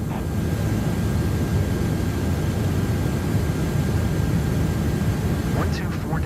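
Steady broadband drone of an airliner cruising at altitude over Bloomington, Indiana, in a flight simulator game, a constant engine and airflow roar filling the whole stretch, with a faint rising chirp near the end.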